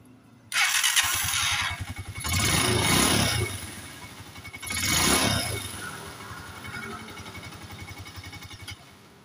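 A Honda TMX 125 motorcycle engine with a freshly replaced spark plug catches on a push start and runs close by, its rough mid-pitched idle rising in two strong revs before settling back.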